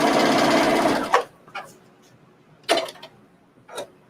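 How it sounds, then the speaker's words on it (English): A serger overlock sewing machine stitching fabric, a fast dense mechanical whir for about a second, then stopping, followed by a few handling clicks and rustles nearby. "Let's run this through the serger."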